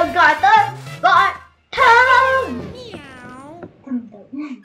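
Cat-like meows from the video game Super Mario 3D World rise and fall in several short mewing calls, mixed with people talking during play.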